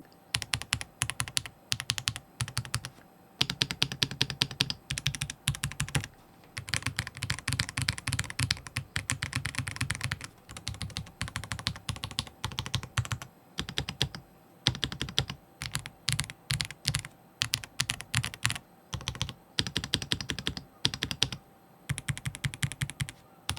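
Typing on a Nyxi Striker retro mechanical keyboard fitted with red switches: steady, close key clacks in quick bursts with short pauses, carrying on alone at moderate volume.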